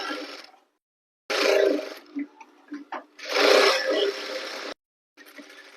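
A sewing machine stitches a blouse in short bursts of whirring, rattling running, close and fairly loud, separated by silent pauses and a few light clicks as the cloth is adjusted.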